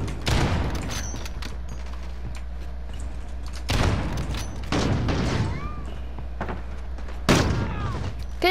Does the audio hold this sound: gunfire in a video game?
yes